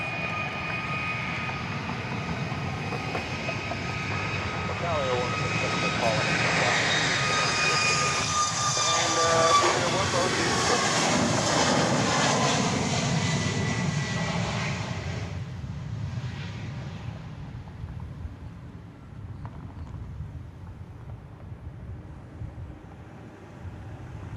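A Boeing 737 MAX 8 airliner, flight 3665 to Phoenix, takes off from Dallas Love Field at night: a loud, broad jet roar builds and peaks, then fades steadily as the plane climbs away.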